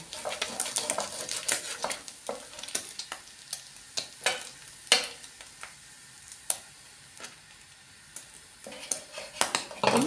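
Eggs frying in a pan with a soft sizzle, punctuated by irregular clinks and scrapes of a utensil against the pan, close and fairly quiet.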